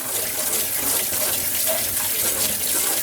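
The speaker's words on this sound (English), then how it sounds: "That means our clams are now clean. So we're going to give them a rinse," Clams being rinsed under a running kitchen tap, a steady loud hiss and splash of water pouring continuously into a sink, close by and without talk.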